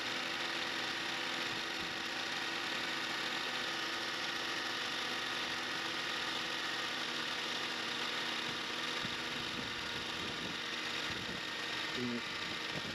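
A 2008–2012 Honda Accord EX engine idles while warming up, a steady, even hum with a faint mechanical whine running throughout, close by.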